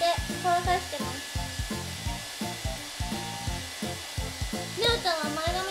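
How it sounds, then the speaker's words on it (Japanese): A hair dryer blows on bangs close up, its airflow whooshing in quick rhythmic pulses as it is swept back and forth in a zigzag, with a faint voice near the end. "いつもジグザグにして乾かしてます"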